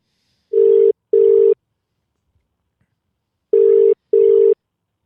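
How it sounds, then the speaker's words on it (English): An outgoing telephone call rings on the line: two pairs of steady electronic ring tones, each pair a quick double burst, separated by a silent gap, clear and fairly loud with no talking. "Now we need to try and get this young man on the phone."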